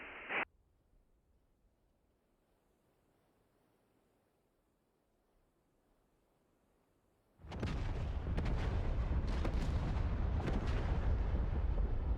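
Artillery rounds fired in the DCS flight-sim game during an F-16 oilfield strike: a brief sharp burst, a long quiet gap, then a sustained loud roar of continuous barrage with repeated cracking impacts filling the remainder.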